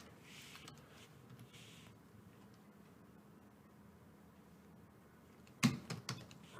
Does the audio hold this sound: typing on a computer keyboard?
yes